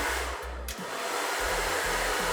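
A hair dryer fitted with a DevaFuser diffuser attachment roars loudly and steadily up close, with a brief dip in its airflow noise early on.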